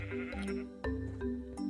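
Sheep in Minecraft bleat in several short, nasal calls that overlap and follow one another in quick succession, close and fairly loud, with no voices over them.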